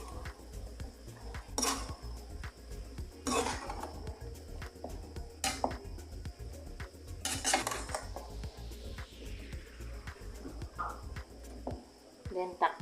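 Bitter gourd and shrimp are stirred in a cooking pan, giving sharp, scattered utensil clinks and scrapes against the metal over a low, busy kitchen background.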